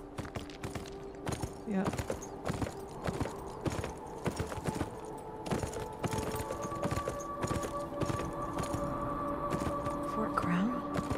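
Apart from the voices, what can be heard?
horse hooves clip-clopping in video game Beyond: Two Souls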